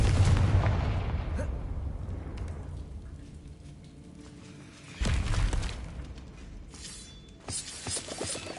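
The Confringo explosion spell in Hogwarts Legacy on PS5 goes off as a deep boom with a rumbling tail that slowly fades, followed by a second burst around midway and crackling game effects, loud and without speech.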